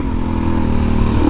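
A Suzuki DRZ 400e motorcycle with raised gearing runs steadily through a corner, its mid-pitched engine droning loud and close with faint clatter and no talk.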